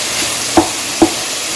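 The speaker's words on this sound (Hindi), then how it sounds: "और इस टाइम पे मैं इसमें प्याज डाल रही हूँ ताकि थोड़ी सॉफ्ट हो जाए" Chopped onions frying in a pan for keema naan filling, a soft continuous sizzle with two short stirring scrapes spaced about half a second apart.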